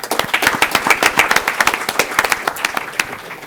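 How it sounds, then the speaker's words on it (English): People at a Brawley city council meeting give a round of applause, a fairly loud burst of sharp, distinct individual claps that keeps an uneven rhythm and tapers near the end. "Let's give them a round of applause."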